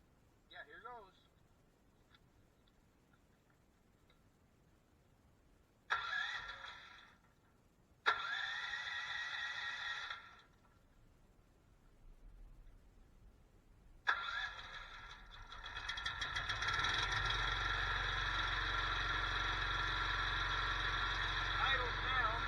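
A Nortrac backhoe's engine cranks in a few tries, then catches and settles into a loud, steady diesel idle with a deep low rumble, while someone speaks briefly near the start.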